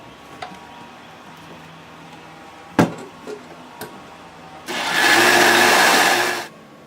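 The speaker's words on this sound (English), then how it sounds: "You put 2 cups of raw cashew pieces into a blender, and then you add the Rejuvelac." A blender whirs loudly for about two seconds as it blends two cups of raw cashew pieces with Rejuvelac, following a few small clicks and knocks from setting up the jar.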